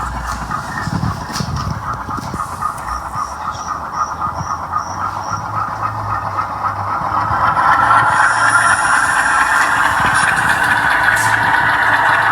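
Locomotive number 906 rumbles toward a green signal, a steady engine drone with a low hum that swells louder in the second half, along with a faint repeating beeping tone.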